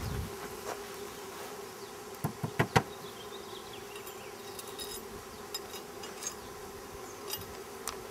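A large swarm of bees at a beekeeping site produces a constant droning buzz, with a few nearby sharp ticks and taps over the steady hum and no talk.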